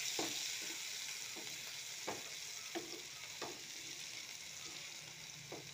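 Fish curry fries with a steady hiss while a wooden spatula stirs it, scraping and tapping the pan in a loose series of soft knocks, close but quiet and without talk.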